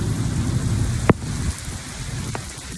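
Heavy rain pours steadily in Dubai, a dense close hiss over low rumbling, with one sharp crack near the middle and a fainter one later, like nearby thunder or lightning strikes, and no voices.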